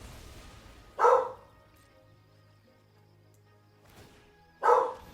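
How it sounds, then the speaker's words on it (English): A dog gives two loud, sharp barks spaced a few seconds apart, close by, with quiet room tone in between and no talking. "Sorry about the barking."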